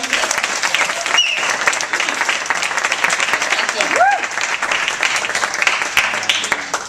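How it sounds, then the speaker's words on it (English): Warm round of audience applause at a live comedy talk event, continuous clapping with a few whoops and faint voices mixed in. "please, one more round of applause for the Duchamp syndrome"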